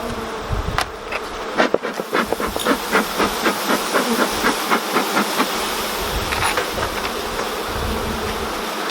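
Honeybees in an opened beehive in the UK keep up a dense, steady buzzing close to the microphone, with individual bees whining past in short bursts over the constant hum.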